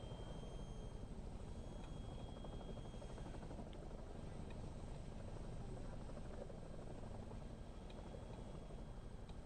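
A Chinook helicopter departs an air show with a steady, loud rotor thud that beats rapidly and evenly and carries on without a break.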